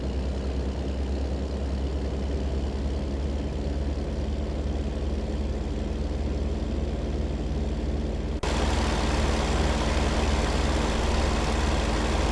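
A Kenworth W900 truck engine in American Truck Simulator drones low and steady, then steps up louder partway through as the revs climb, with no voices.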